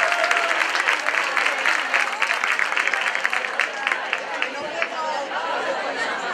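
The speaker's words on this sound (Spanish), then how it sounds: "¡Un aplauso para ella!" Steady audience applause fills the space at a children's Christmas festival in Cadreita, Spain: dense clapping with crowd chatter mixed in, loud and sustained throughout.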